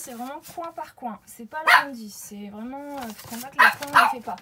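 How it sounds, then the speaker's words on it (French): A pet dog barks in short bursts while playing indoors, the yaps rising loud at moments over steady French speech during a craft unboxing. "c'est mon chien qui est en train de jouer"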